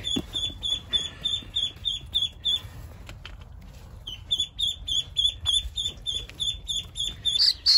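A duckling gives a rapid series of short, high squeaky calls in a fast, regular rhythm, close and clear, pausing briefly before starting up again.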